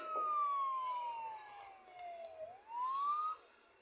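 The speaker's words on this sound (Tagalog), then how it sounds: "What sound does the fire engine make?" A single siren wail from a fire engine or police car slides slowly down in pitch and then rises again. It is faint and clear, with no talking over it.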